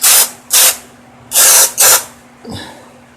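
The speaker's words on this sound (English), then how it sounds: "just spraying some dirt and dust out of here" Compressed-air spray blasting dirt and dust off a Craftsman mower, heard as four loud, close hissing bursts of about a quarter second each, followed by a fainter fifth puff.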